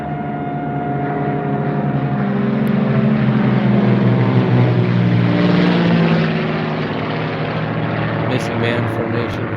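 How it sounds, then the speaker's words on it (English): A propeller plane taking off at an air show roars loudly nearby, its engine droning and swelling as it passes and then slowly fades into the distance. "You see the plane take off right that direction."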